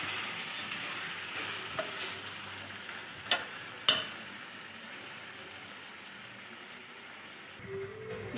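Mutton curry ingredients stirred and frying in a pan, a steady sizzle with a few sharp clinks of the spoon against the metal, close and unaccompanied by talk.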